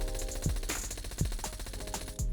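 Rapid gunfire from aiming and shooting in a video game played with a Cronus Zen, firing in quick, evenly spaced bursts with deep thumps, over steady tonal background music.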